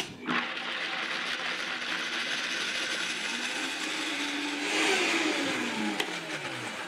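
Countertop blender whirring cashews and water into cream, a steady, close motor drone with a grinding edge that shifts pitch slightly as the mixture smooths out.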